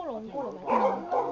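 A dog barks and yips in short bursts close by, one of two dogs kept in a small space alongside cats, with a person talking over it.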